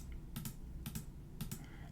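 Soft computer clicks come in three quick double pairs, evenly spaced, at close range and low volume over a faint background hiss, with no talking.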